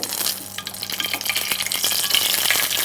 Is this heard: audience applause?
no